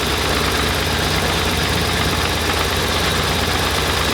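A BMW R1100RT motorcycle boxer engine runs steadily with the throttle raised to about 2,000–3,000 RPM during a throttle body sync, a close, even low thrum with no talk.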